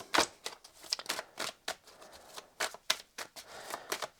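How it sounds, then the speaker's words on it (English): Tarot cards are shuffled in quick, uneven riffles and flicks, soft and close, with a papery snap to each pass. "Those were just my shocking shuffling."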